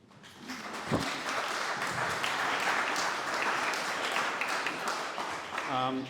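An audience at an artists society exhibition opening applauds steadily for several seconds, a sustained wash of many hands clapping at moderate distance, with a voice beginning to speak right at the end.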